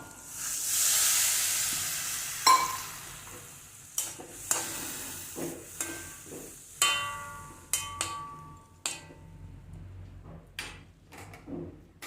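Tamarind water for green chilli pachadi, with pepper cooking in it, boils in a pan with a soft steady hiss and bubbling, broken by scattered sharp clicks and knocks of stirring. The sound is quiet and close.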